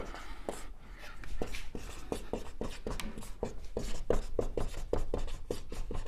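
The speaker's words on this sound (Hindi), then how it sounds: "पहला नियम लिखता हूँ मैं जल्दी से" Pen or chalk strokes scratch out quick handwritten notes on a classroom board or page, a close rhythmic series of short rubbing strokes with brief pauses, no voices.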